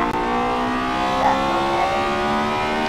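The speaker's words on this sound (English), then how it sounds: "the car sounds awesome" Engine of a 2018 Acura TLX A-Spec on a test drive heading toward a track, a steady loud close drone with rising revs and rich harmonic tone, no voices.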